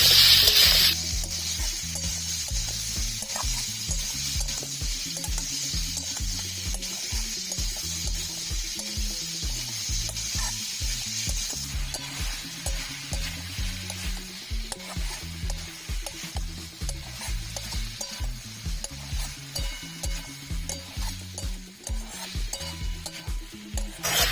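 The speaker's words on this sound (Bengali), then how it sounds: "দিয়ে দেবো কেটে রাখা আপেল আপেলটা আট থেকে দশ মিনিট নাড়াচাড়া করে নেবো" Chopped apple stirred and fried in oil in a pan for a sweet and sour apple chutney, a loud continuous sizzle with rhythmic scraping strokes from the stirring that continue steadily throughout, no voices.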